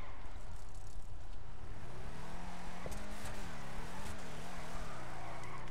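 An all-wheel-drive drift car in GTA 5 accelerates steadily, its engine note climbing and wavering through gear changes, loud and continuous over a constant background roar.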